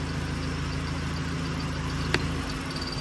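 Car engine idling low and steady after the idle-up linkage is pulled, a continuous close rumble with a slight roughness and one brief click near the end, with no talking.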